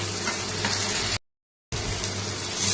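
Spice masala and potatoes frying in oil for a Bengali banana flower curry, a loud, steady close sizzle broken by a brief silent gap.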